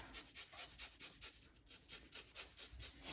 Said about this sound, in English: This is a microplane grater from Pampered Chef. It's great for zesting citrus fruits like lemons, limes, oranges.